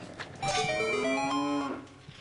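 A video game cow switch lets out a single drawn-out electronic moo when struck, a clear tonal bellow lasting about a second and a half with no talk around it.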